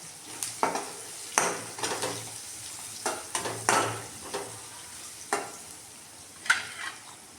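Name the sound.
stirring grated beetroot with turmeric in a frying pan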